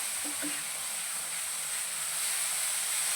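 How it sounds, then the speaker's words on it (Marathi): Green chilies fry in hot oil, making a steady, dense hiss and sizzle that holds evenly throughout at moderate loudness. "तेलामध्ये मिरची ना छान अशी फ्राय करून घ्यायची"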